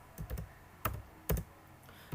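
A few soft, scattered keystrokes click on a computer keyboard in a quiet room, in short irregular bursts.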